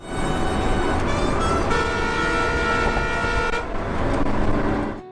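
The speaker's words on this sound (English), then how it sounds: "our new air horn made its debut" A loud, sustained air horn blares in long, brassy blasts with a brief dip partway through, close and overpowering, no voices.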